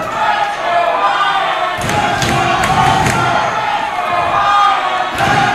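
Crowd at an intergender wrestling title match, a steady loud roar of voices and cheering with sharp thuds and slams breaking through, and a commentator's voice under the noise.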